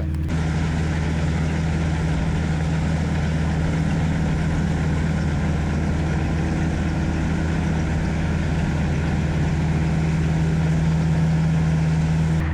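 A combine harvester threshing winter barley in the field makes a loud, steady mechanical drone with a constant low engine hum, unbroken throughout with no talk.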